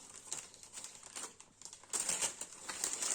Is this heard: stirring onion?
no